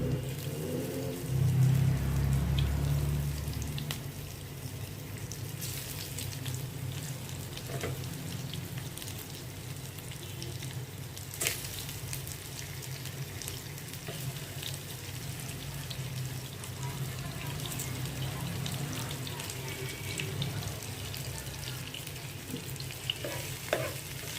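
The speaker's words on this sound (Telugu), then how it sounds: "నూనె కాగింది దీంట్లో ఇట్లా కాకరకాయలు వేసుకున్నాం" Sliced bitter gourd fries in hot oil, giving a continuous close sizzle with occasional stirring clatter and a brief low rumble near the start.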